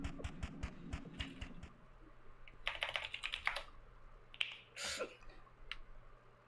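A computer keyboard clatters with loud, fast typing in quick bursts of sharp key clicks, heard close and alone with brief pauses between runs.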